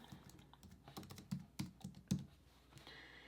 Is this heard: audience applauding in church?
no